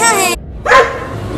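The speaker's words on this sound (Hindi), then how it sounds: "ये कुत्ता तो घर के बाहर ही बैठा है।" A dog lets out a short, loud bark close by in a comedy sketch, with a voice speaking just before it.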